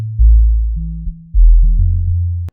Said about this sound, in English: if you solo that band of frequency below 60 Hz in the pluck sound